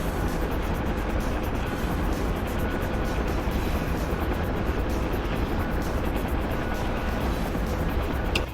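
A helicopter flies steadily in a war video game, its rotor and engine drone loud and unbroken throughout with no talking.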